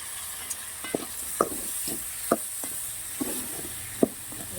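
Seasoning spluttering and frying in hot oil in a pan while making sundakkai puli kuzhambu, a steady sizzle broken by scattered sharp pops and crackles, close and fairly quiet with no talk.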